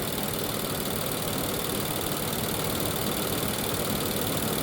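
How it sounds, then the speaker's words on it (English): An Infiniti QX60 engine with a misfire idles steadily, a constant low mechanical rumble with a faint rhythmic knock, uninterrupted and close by. "Engine idling."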